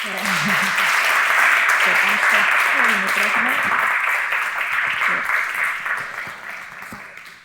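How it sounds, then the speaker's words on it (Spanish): An audience applauds a CNIO scientist at a public science talk in Spain, a loud sustained wash of clapping across the whole stretch that thins slightly toward the end, with an announcer's voice briefly audible at the start. "Damos un aplauso a Lola."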